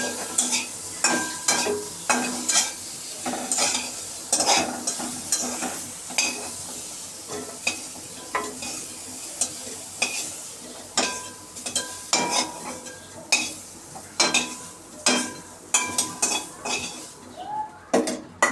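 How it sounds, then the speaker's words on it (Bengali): Bitter gourd fries in a pan while a metal spatula stirs it. Sharp, repeated scraping clinks ring against the pan over a soft sizzle, close and steady throughout, with no voices. "এখন আমার করলাটা প্রায় ভাজা হয়ে গিয়েছে"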